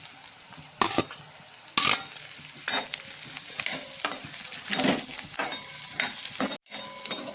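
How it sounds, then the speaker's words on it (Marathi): Slit green chilies go into frying onion for paneer bhurji. A loud, steady sizzle plays under repeated scraping strokes of a spoon stirring the pan. "तर ही टाकणार आहोत हिरवी मिरची"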